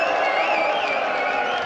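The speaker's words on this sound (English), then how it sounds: "every now and then, Kallinger just gets the crowd going" Crowd cheering at a darts match for Christian Kallinger at the Austrian Darts Open, a dense continuous roar with whistles and whoops, loud and unbroken.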